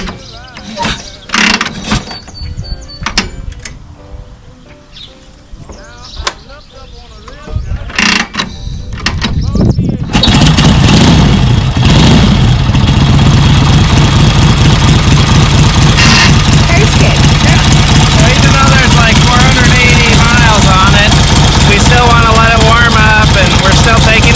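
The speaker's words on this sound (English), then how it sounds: "So turn the gas on, give it a couple prime kicks." A restored 1939 Harley-Davidson UL motorcycle is kicked over a few times with sharp mechanical thumps, then its engine catches and runs loudly and steadily, with a voice talking over it.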